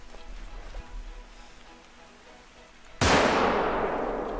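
A single rifle shot at a whitetail deer in theHunter: Call of the Wild, a sharp loud crack that bursts after a quiet outdoor ambience and rolls off in a long fading echo.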